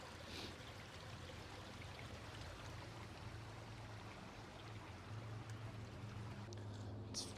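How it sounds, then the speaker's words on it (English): A small stream of water bubbles along in a little outdoor channel, a faint steady trickling and rushing wash heard up close with light wind, no one talking. "It's always nice to see these little channels of water, streams. It's bubbling there"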